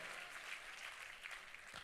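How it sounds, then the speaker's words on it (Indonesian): A church congregation claps together during a sermon, producing a short burst of quiet, steady applause from a distance. "Tepuk tangannya yang lebih dahsyat lagi buat Yesus Tuhan kita."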